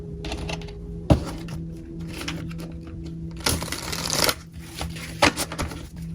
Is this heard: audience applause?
no